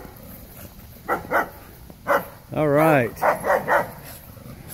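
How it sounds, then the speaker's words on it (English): Several dogs bark aggressively behind a rental house, short bursts of harsh barks then a longer howling yelp, fairly close, with someone speaking briefly between them. "That's not a very friendly bark."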